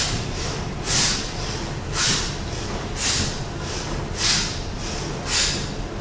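Forceful power breathing during kettlebell swings: six loud, sharp exhalations in a steady rhythm roughly a second apart, close by, over a constant airy background with no talking.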